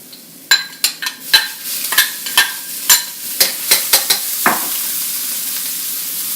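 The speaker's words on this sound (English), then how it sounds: "Now let's get started with our garlic and ginger, just so it gets aromatic." Garlic and ginger crackle and pop in hot oil for a chicken and broccoli stir-fry, a run of sharp, close spits and bursts over a steady sizzle, with no talking.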